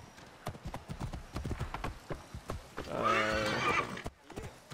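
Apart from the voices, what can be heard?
horse hooves and neighing in video game Assassin's Creed Origins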